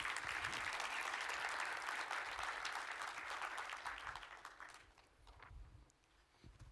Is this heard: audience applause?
yes